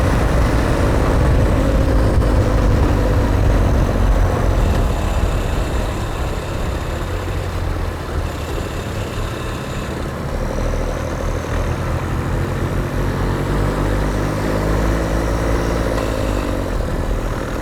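A one-off diesel motorcycle fitted with an '80s Harley-Davidson clutch drones steadily with a loud, low, throbbing engine note that eases slightly midway and then holds, with no voices.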